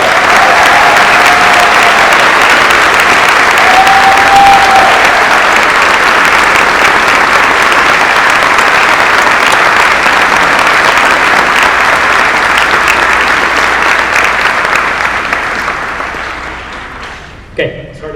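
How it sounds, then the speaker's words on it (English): A large commencement audience gives a long, loud round of applause for a man marking 50 years at Cistercian and his 70th birthday, sustained clapping that tapers off near the end. "So can we give him a round of applause?"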